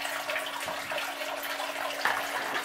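Water runs steadily through a 3D Miller table clean-up sluice at low pressure, a soft continuous trickle and splash heard up close.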